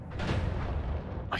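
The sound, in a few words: random explosions in the video game Noita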